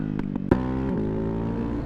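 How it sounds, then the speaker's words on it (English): Exhaust of a Ducati Hypermotard 690 Mono RVE motorcycle while riding in winter in Arizona, a steady, close engine drone with a sharp burst and a couple of brief blips early on. "This exhaust is just amazing."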